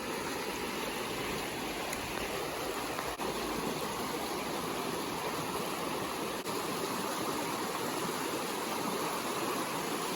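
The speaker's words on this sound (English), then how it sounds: "Fast moving water, and then if you over there, it's slow." Fast-moving stream water rushing steadily and loudly nearby in a spring trout-fishing spot, a dense, unbroken wash of noise throughout.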